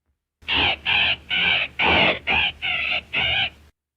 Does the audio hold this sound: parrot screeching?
yes